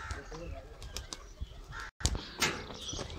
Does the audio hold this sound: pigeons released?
yes